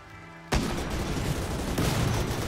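Sudden burst of gunfire in the video game Rimworld, a dense rattling volley that starts abruptly and keeps going loud and continuous, with a second surge near the end.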